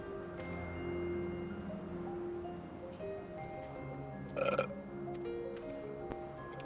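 A single short burp rising out of a quiet background of game music and ambience, brief and fairly faint.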